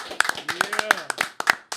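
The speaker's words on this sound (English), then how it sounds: "Can we get a round of applause?" A small group claps briefly and unevenly in a podcast setting, the sharp hand claps close and crisp, mixed with voices talking over them.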